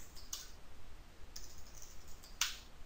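A computer keyboard in a Linux terminal, keys pressed to enter a new user password: three faint, sparse clicks spread over a quiet background.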